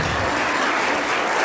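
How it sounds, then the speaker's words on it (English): An audience applauds at a film screening event, steady dense clapping filling the space throughout with no talk over it. "a big round of applause"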